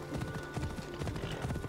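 Horse hooves from riding in Assassin's Creed Odyssey, a steady rhythmic clip-clop of a galloping mount, repeated beats close up over faint ambient game sound.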